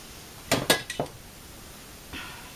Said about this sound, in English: I have more bacon over here that I have to chop up that's already cooked.